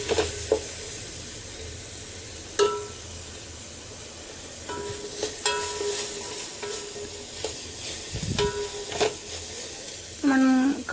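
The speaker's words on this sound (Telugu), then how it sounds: "ఇలా అల్లం పేస్ట్ తర్వాత ఒకసారి అంతా కలిసేలాగా ఇలా కలుపుకోవాలి" Ginger paste stirred into a mutton biryani masala in a hot pan, with a steady sizzle and repeated scraping stirs close by, plus a few brief clinks and a faint voice in the background.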